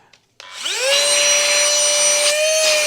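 Small USB-C vacuum cleaner motor starting up, its whine sweeping upward and then holding a steady high-pitched tone with airflow hiss, close and loud, running alone without talk.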